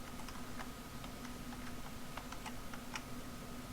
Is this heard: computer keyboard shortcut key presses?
yes